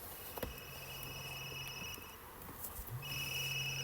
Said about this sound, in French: C'est quoi ça? Un téléphone?